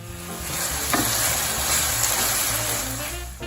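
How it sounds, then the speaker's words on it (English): Roma tomatoes stirred in a pan of oil with dissolving anchovies for puttanesca, a steady close sizzle with scraping stir sounds and occasional clinks throughout, no talking. "Now let's go ahead and add these Roma tomatoes. Stir those around in there."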